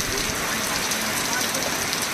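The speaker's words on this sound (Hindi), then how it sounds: "बहुत तेज बारिश हो रही" Heavy rain pouring down in a village, a dense, steady hiss of drops striking surfaces close by, loud and unbroken throughout.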